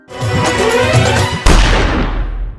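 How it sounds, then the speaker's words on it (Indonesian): Dense, loud bursts of gunfire and booming blasts run continuously, ending with a heavy crash-like impact, like a chaotic action-film shootout. "hingga terjadi aksi tembak-tembakan"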